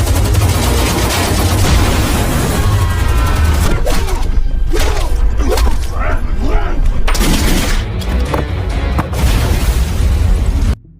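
Heavy gunfire rips through a film shootout at a house, with dense loud volleys of shots and booming blasts overlapping nearly continuously before cutting off abruptly at the end.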